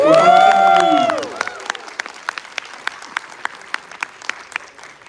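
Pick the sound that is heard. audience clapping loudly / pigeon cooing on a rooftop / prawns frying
audience clapping loudly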